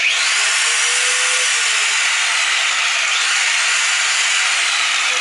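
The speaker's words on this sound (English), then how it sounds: "So I'm going to try the angle grinder with just the light." An angle grinder runs off a DIY 35Ah, 3000W battery-powered inverter, giving a loud, steady high-pitched motor whine with a slight wavering pitch and no pauses or voices.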